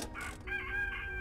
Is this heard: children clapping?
no